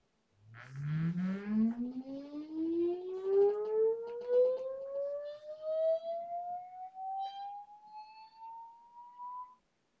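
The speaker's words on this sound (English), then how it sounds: "do the sweep through the tone generator" A single pure electronic tone from a tone generator glides slowly upward in pitch over about nine seconds, starting low and ending high, with faint background noise and no talking; a frequency sweep for measuring drone frame resonance.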